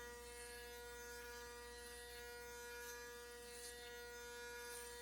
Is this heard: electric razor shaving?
yes